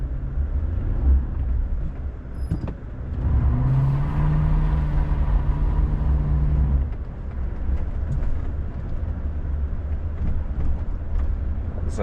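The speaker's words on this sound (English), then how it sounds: "It's a desert burnout." An off-road vehicle does a burnout on soft desert sand, its engine rumbling steadily and rising into a strained, higher-pitched whine for a few seconds before dropping back to a low drone.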